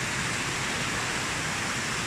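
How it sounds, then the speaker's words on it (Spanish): Hot spring water flowing down in a forest setting, a dense, steady rushing roar, close and loud, with no breaks or voices. "De aquel lado, pues baja agua."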